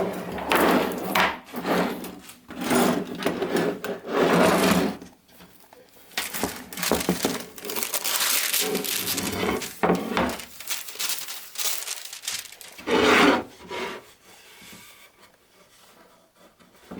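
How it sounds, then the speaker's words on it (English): Sandpaper rubs over a wooden coffee grinder pan in bursts of scratchy back-and-forth strokes with short pauses between, close and fairly loud, with no talking. "Just a little bit of cleanup with sandpaper."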